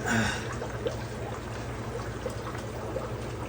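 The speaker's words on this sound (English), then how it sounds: "Yeah, it's trickling in there." Water trickles steadily into a fish tank, a continuous soft pouring and splashing wash with a few small drips, close by, with no one speaking.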